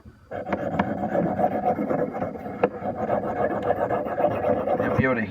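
Knife drawn in repeated passes across a sharpening stone, a close, steady raspy scraping that continues for several seconds with brief ticks and a short faint voice near the end.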